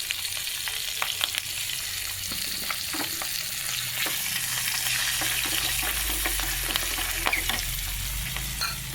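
Chillies, turmeric and asafoetida sizzle steadily in hot oil as a tempering for pulihora, a dense, continuous frying hiss with scattered pops and crackles close up, no voices over it.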